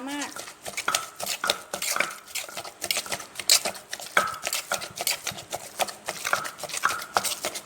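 Seasoned minced pork filling for stuffed squid in a clear soup is mixed by hand in a bowl, giving repeated soft scraping, clinking and squelching strokes in an uneven rhythm close up.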